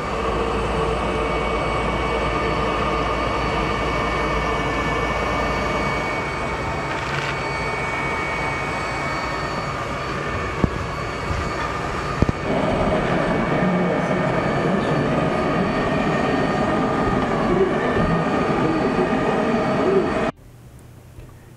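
A robotic floor mop with a built-in vacuum runs its auto cleaning cycle. It gives a steady, fairly quiet mechanical whir with a couple of faint bumps, and the sound cuts off sharply near the end.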